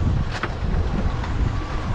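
Steady wind buffeting the microphone on the coast during a fishing outing, a continuous rumbling roar with no voices.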